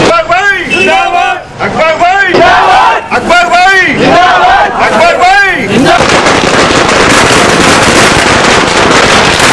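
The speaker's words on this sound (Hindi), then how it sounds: "बारकस में अहलियाने मोहल्ला ने आतिशबाजी की और अकबरुद्दीन ओवैसी जिंदाबाद के नारे लगाए" Crowd of neighborhood residents in Barkas, Hyderabad, chanting slogans in a rhythmic call-and-response during a street celebration, with fireworks crackling; the chants come in loud repeated bursts, then give way to dense continuous crackle and roar.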